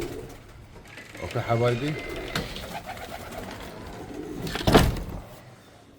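Pigeons coo in a loft, their soft rhythmic calls rising near the start and again later, with someone speaking over them.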